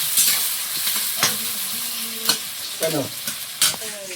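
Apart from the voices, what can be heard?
chopped onion added to frying pan on wood fire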